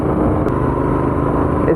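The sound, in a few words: Royal Enfield Continental GT 650 motorcycle engine riding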